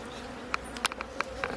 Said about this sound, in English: are called Melipona costarricensis or Jicote barcino, and they live only in the Caribbean side of Nicaragua, Costa Rica, and Panama